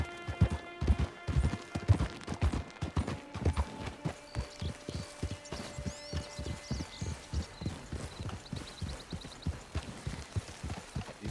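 Horse hooves clip-clop at a steady trot in Red Dead Redemption 2, a continuous rhythmic pattern of hoof strikes on a trail with quiet ambient background and distant bird-like chirps.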